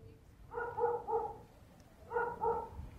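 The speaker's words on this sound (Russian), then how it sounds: "Но вдруг в тишине раздается собачий лай" A dog barks in the evening quiet over an old town quarter: two short bursts of three quick barks each, mid-distance and clear against a faint background.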